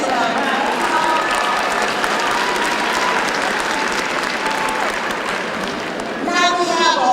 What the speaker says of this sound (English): Let's give the Chancellor a round of applause.